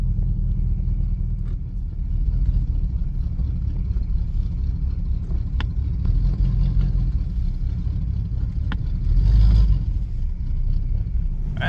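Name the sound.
classic car driving on the highway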